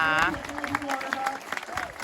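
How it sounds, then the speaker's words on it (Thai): Audience clapping for contestants from 77 provinces at The Man Thailand 2022 pageant swimsuit round, a lively crowd patter heard amid voices, uneven and moderately loud, swelling and dipping over two seconds. "ขอเสียงปรบมือให้กับนุ่มหล่อทั้งหนุ่มหล่อทั้ง 77 จังหวัดเลยนะคะ"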